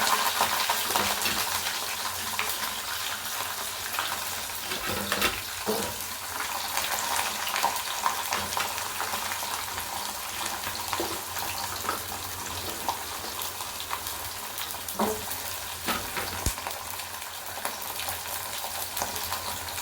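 Garlic cloves frying in oil in a pan for garlic kuzhambu, a steady close sizzle with occasional stirring knocks and scrapes, no talk heard.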